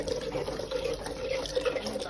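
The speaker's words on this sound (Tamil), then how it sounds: "இதுல கரைச்சி வச்சதை அப்படியே ஊற்ற வேண்டியது." A dissolved flour mix for kanji being poured into a pot of boiling water, giving a steady close liquid pouring and bubbling sound with faint voice underneath.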